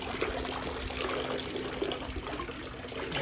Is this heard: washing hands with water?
yes